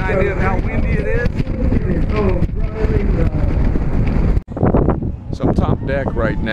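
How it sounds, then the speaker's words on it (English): Heavy wind buffets and roars across the microphone in gusty rumbles on the top deck of a cruise ship in port at Nassau, with a voice talking underneath throughout. "To give you an idea of how windy it is."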